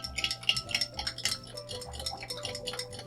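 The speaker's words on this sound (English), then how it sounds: "You could shake this drink, but today I'm just going to stir." A spoon stirs a cocktail made with sweetened condensed milk, a brisk run of close metallic clinks and scraping against the glass with no talk.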